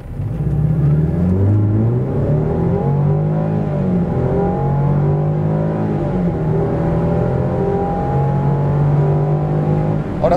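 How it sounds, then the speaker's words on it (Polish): A 2022 Land Rover Defender 110 with a 300 hp 2.0-litre petrol engine accelerates hard on asphalt, its pitch rising and dropping through gear changes, loud and continuous without any talk. "Na asfalcie 2-litrowa benzyna rozwijająca 300 koni radzi sobie całkiem nieźle, zapewniając takie przyspieszenie od 0 do setki"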